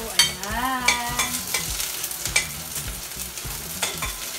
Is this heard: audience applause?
no